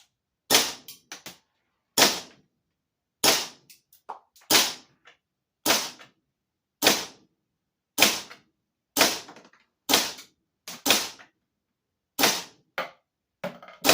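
An S&T Matrix gas blowback airsoft rifle fires about fifteen single shots. Each is a sharp, loud, close crack with a short snappy tail, coming at irregular intervals of roughly one second, with no voices.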